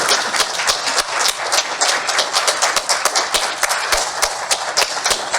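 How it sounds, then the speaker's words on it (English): A crowd at a closing event gives a solid round of applause, dense and steady clapping from many hands throughout, fairly close and loud. "I'd really love to start off a solid round of applause for her"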